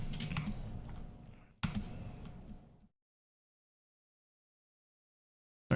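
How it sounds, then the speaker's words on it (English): Computer keyboard keys tapped during Blender 3D modeling work, a dense run of quick clicks for about three seconds with a brief break, then silence. "Hit 3 on my keyboard."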